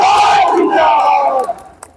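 A large crowd at a political rally in Bihar roars and cheers loudly and continuously, the collective shout fading toward the end.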